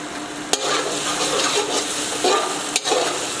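Green chillies, some chopped fine and some whole, sizzle in a tomato and onion paste for ridge gourd curry, with a steady loud crackle, scraping stirs and two sharp utensil knocks.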